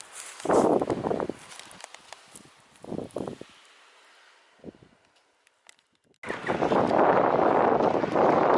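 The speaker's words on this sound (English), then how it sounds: "it's very, very windy" Gusty wind buffets the microphone in loud bursts, with quieter lulls between and a sustained roaring blast at the end.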